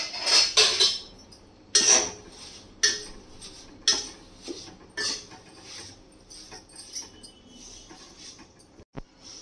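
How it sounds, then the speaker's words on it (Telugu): Washed and dried curry leaves roast in oil in a pan, with sharp crackling bursts and spatula clatter early on that settle into softer intermittent scraping and faint sizzle, close by. "దీన్ని బాగా వేయించుకోవాలి."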